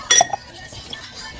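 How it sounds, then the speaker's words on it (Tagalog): Glass cups and mugs salvaged from a Korean dumpster clink together sharply as they are handled, a bright cluster of clinks near the start followed by a softer tap, then quiet rustling. "And grabe, ang dami nitong baso na to."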